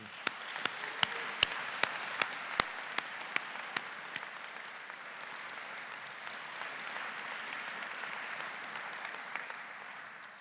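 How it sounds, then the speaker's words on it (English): Audience applause for graduate faculty at a doctoral hooding ceremony, a few sharp claps at first swelling into steady distant clapping from a large hall crowd. "Can we please have a round of applause for our outstanding graduate faculty?"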